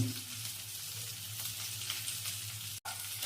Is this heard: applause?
no